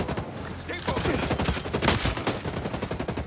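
Rapid bursts of gunfire from the video game Ghost Recon Breakpoint, dense and loud, crackling in quick repeated volleys throughout with a voice faintly mixed in.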